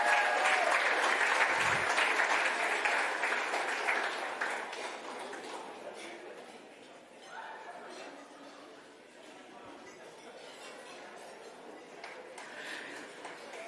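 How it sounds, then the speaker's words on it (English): Audience applause for the first award winner of the night at a gala awards livestream, the dense clapping loud at first then easing to a steadier, softer patter, with faint crowd chatter mixed in. "it's a round of applause for Eden, our first award winner of the night"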